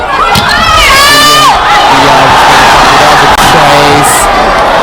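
A packed arena crowd at a women's world championship volleyball match between China and Italy erupts in loud, sustained cheering and high shouts, with whistling tones and rhythmic chanting bursts throughout.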